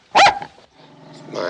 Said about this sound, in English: What are you doing with that dog? Whose dog is that?